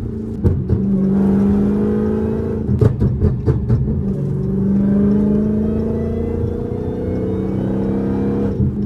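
A Dodge Hellcat with a ported supercharger snout revs close by, its engine rumble rising and falling with a steady supercharger whine over it and a burst of quick sharp pulses near the three-second mark.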